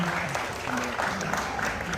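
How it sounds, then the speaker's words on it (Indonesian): Applause from the audience at a press conference for a stadium concert tour, a dense patter of clapping heard close, with speech overlapping it throughout. "Boleh berikan tepuk tangan dong, rekan-rekan sekalian."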